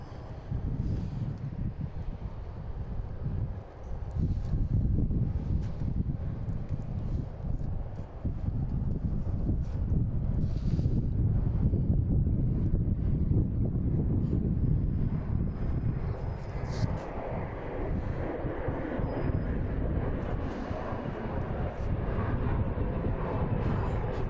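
An airplane takes off at Boston Logan International Airport, a steady, loud, broad jet roar that holds for about twenty-four seconds with wind buffeting and no talking.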